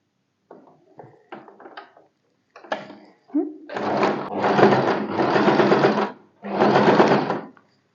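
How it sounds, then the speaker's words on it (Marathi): A sewing machine stitching a fabric rope runs in several sustained bursts after a few short clicks and handling noises, close and fairly loud, stopping and restarting with brief gaps and no talking. "चला आता स्टार्ट करूया स्टिच करायला"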